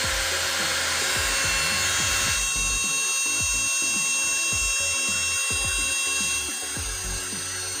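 Kyocera TR-50A electric trimmer running with no load, a loud continuous high whine with a strong motor buzz, steady throughout, with some low clunks and handling noise underneath.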